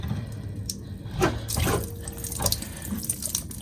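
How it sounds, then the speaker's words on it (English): Water pours and splashes steadily from the clogged sunroof drains of a VW MK6 Jetta Sportwagen TDI, a continuous close gushing with a few louder splashes and drips. "This is a friendly reminder to check your sunroof drains, everybody."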